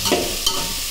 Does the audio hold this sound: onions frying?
yes